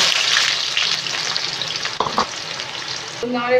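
Sliced potatoes frying in hot white oil in a pan: a loud, steady crackling sizzle with scraping stirs, a brief clunk near the end and a short tonal beep, no talk.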